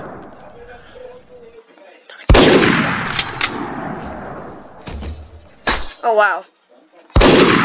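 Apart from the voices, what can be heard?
sniper gunshots in video game Garry's Mod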